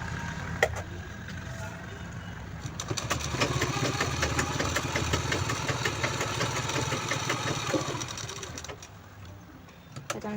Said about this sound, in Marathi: आता आपल्याला हे बॉक्स पूर्ण स्टिच करायचे.